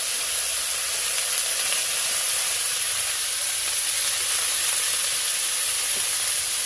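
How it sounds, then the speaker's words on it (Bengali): Potatoes sizzle in hot oil with a steady, bright hiss, close and continuous with no voices. "এবার এদিকে আমার আলুটা ভাজা হচ্ছে"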